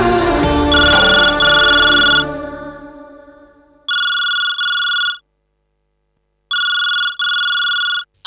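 A telephone rings in a home, with a long opening ring that fades, then two more bursts of paired electronic ringtone pulses separated by silence, loud and close with no voices.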